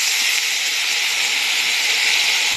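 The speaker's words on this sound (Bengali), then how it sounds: "এবার আমি মশলা পেস্টটা দিয়ে দিচ্ছি, দিয়ে সামান্য একটু জল দিয়ে নেড়ে চেড়ে নিতে হবে।" Spice paste and a splash of water hit eggplant in a hot pan, giving a loud, steady sizzling hiss that holds evenly throughout with no pauses.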